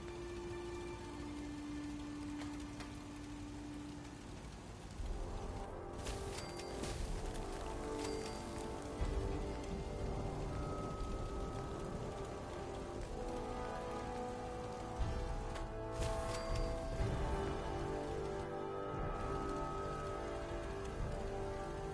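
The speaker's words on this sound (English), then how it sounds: "Hope this rain lets up soon." Steady rain pours onto surfaces in Fallout 4 in Survival Mode, a dense continuous patter with occasional louder bursts, no speech.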